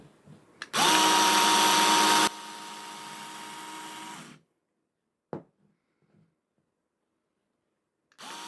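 A battery-powered electric rotary cutter slices through four layers of upholstery fabric, giving a loud, steady motor whine. Partway through the whine drops to a lower, lighter hum, then stops, followed by a brief click and a short burst of the motor restarting.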